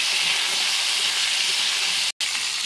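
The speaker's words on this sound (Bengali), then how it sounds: "এই আলুটা আমি আগে ভাজি নিই, একসঙ্গে তো একসঙ্গেই ভাজবো। আলুটা ভাজা ভাজা হয়ে যাবে।" Potatoes frying in a pan give a loud, steady, broadband sizzle that runs unbroken except for a brief cut near the end.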